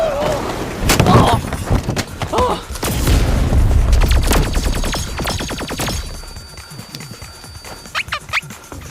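A dramatic explosion in an action drama scene rumbles in with heavy booms and a dense crackling burst of impacts, loud and close, mixed with shouting voices and scuffling before tapering off.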